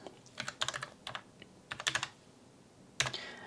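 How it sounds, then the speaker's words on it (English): Excel formula syntax is typed on a computer keyboard in quick clustered bursts of clicking keystrokes, close and fairly quiet, with brief pauses between groups. "but you have to type the whole thing."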